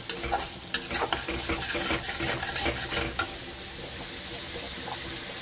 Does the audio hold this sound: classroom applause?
no